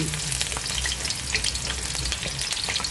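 Garlic cloves and a piece of scallion fry in oil in a pot, a continuous bright sizzle with small popping spatters and a low stirring rumble underneath, no speech.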